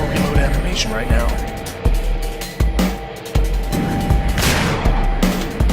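Shotgun blasts in the Dead State combat video game, a series of punchy booms spaced irregularly over a busy game soundscape, with someone talking over the action.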